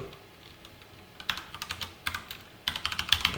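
Code is typed on a computer keyboard, a quiet stretch giving way to bursts of quick, close key clicks, with an irregular rhythm and no voices.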